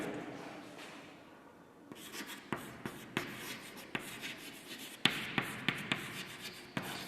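A worked math problem is written out by hand, faint steady strokes broken by a run of distinct taps as the pen strikes the surface, close and unaccompanied by talk.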